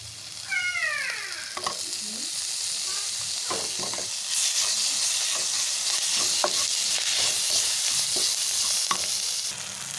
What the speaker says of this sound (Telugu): ఇలా అల్లం పేస్ట్ ఆయిల్లో మంచి ఆ స్మెల్ పోయే వరకు అయితే వేయించుకున్న తర్వాత